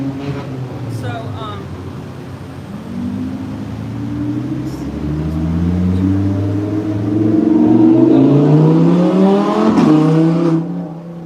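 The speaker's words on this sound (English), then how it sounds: "Noisy Lamborghini goes by." A loud yellow Lamborghini passes close by, its engine roar climbing and shifting through rising revs as it nears, swelling to a peak, then cutting off abruptly.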